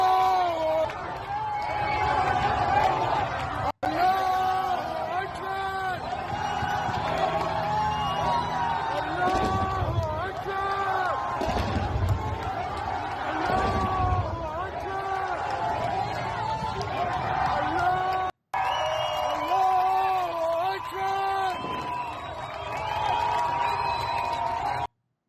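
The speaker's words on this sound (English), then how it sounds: "applaud and cheer as they watch Iranian air defenses fend off Israeli attacks in the sky tonight" A crowd in Tehran cheers, whoops and applauds while watching Iranian air defense fire against Israeli attacks in the night sky, a steady roar of mixed voices and chatter with two brief cuts.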